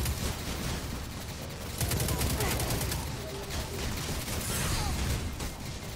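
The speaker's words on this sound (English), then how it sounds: "I'm being shot at very badly." Rapid automatic gunfire in Destiny 2, dense bursts of shots under a busy game soundscape, loudest around the middle.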